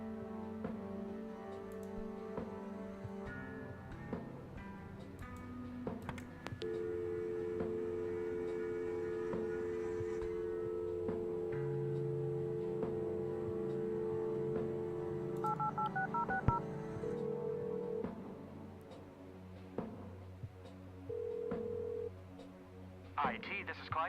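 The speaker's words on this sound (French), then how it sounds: "Téléphone." A run of telephone dialing tones and beeps in a video game, repeated steady tones over a background music bed with some busy game sound around them.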